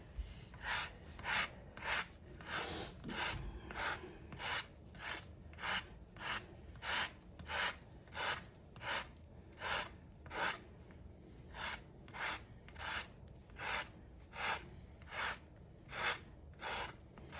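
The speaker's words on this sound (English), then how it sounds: "So we're going to zest an orange." An orange being zested for cranberry bread pudding, giving steady rhythmic rasping strokes against the grater, about one scrape per second, close and clear with no talking.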